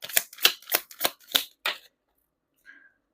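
Tarot cards being shuffled in quick riffles: six crisp, papery bursts in a steady rhythm, close and clear, then a brief faint tap after a pause.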